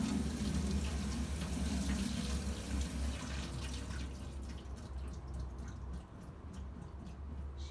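Cold tap water runs steadily into a sink as okra is rinsed under it, a continuous close splashing flow with small drips and no talking.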